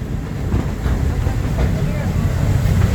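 Disney steam train at Frontierland Station in Magic Kingdom, with a steady, close rumble of rolling cars and a hissing wash throughout, loud and continuous.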